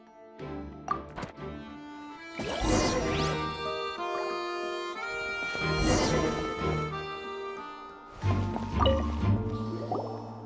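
Water dripping and splashing on a wet floor in the video game Genshin Impact, with scattered drips and squishy liquid splashes over a sustained tonal music bed, fairly close and moderately loud.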